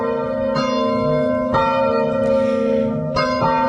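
Bells of an 11th-century village church in the south of Mayenne ring loudly and close, with overlapping resonant strikes a second or so apart and long ringing tails.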